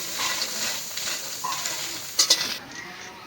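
Onion, garlic and green chilli frying in oil, a steady moderate sizzle with a few soft stirring sounds and two sharper clinks near the end before the hiss dies down.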